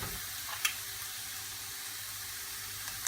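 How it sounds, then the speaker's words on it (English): Steady sizzling of a chicken curry pan as tomato puree goes in, a constant frying hiss with a faint clink near the start and another near the end, no talking. "then we're going to put in the tomato puree"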